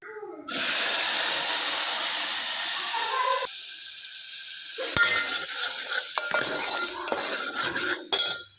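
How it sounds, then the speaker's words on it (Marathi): Sizzling hiss of spice paste frying in oil for mutton curry, with metal utensils clinking and scraping in the pan; a voice is briefly heard. "तेलात चांगला मसाला भाजून घ्यायचा"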